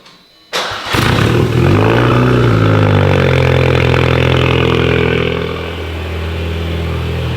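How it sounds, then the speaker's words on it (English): A Volkswagen MK6 Golf R fitted with a TTE480 turbo fires up from cold: a sharp crank catches into a loud, close, high revving roar that holds steady, then settles slightly lower into a fast idle, no talking. "Give him a little cold start, Nick."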